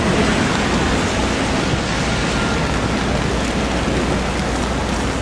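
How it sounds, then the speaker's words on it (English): Rain and snow beat on tents at an Occupy Wall Street encampment during a snowstorm, a loud, dense, unbroken hiss that fills the whole stretch with no voices. "it's cold, it's rainy, it's snowy."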